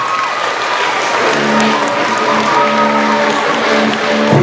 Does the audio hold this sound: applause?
yes